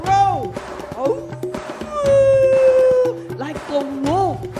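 A crowd of festival-goers, children among them, imitates wolf howls, long rising and falling voiced wails repeated in several overlapping waves, loud and close.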